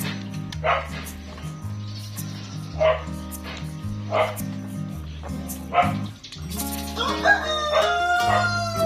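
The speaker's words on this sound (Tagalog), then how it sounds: "Tignan nyo yung mga tuta namin, oh." Puppies barking on a goat farm, a series of sharp yaps spaced about a second apart, while a rooster crows and chickens cluck nearby outdoors.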